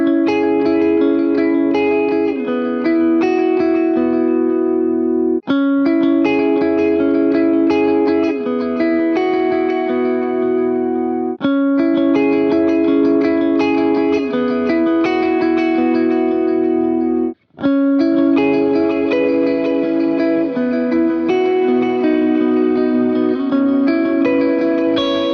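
Electric guitar run through a tape delay set to dotted-eighth repeats, played in three passes of low, medium and high settings, with chiming notes smearing into echoing trails, loud and close, separated by brief pauses.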